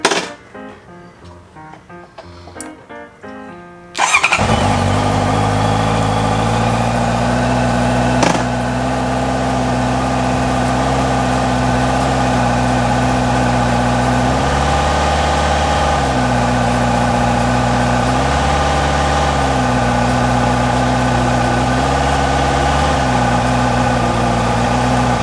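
A Honda CB650F motorcycle engine catches after a few seconds of starter cranking and settles into a steady, close idle, its rhythm rising and falling slightly as the idle-up switch is tried.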